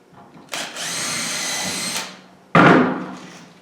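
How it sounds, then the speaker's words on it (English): A power drill pre-drilling a hole in wood whirs steadily for about a second and a half, stops, then gives a second short, loud burst. "do a pre-drill"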